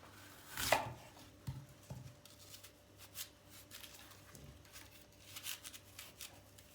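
A knife works through apples to cut out the seeds for bite-sized apple cookies, with a sharp crunchy cut near the start followed by faint, scattered scraping and cutting sounds, quiet and close.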